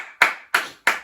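Three sharp, separate hand claps at an even, unhurried pace, each crisp and close with a short decay and nothing else in between.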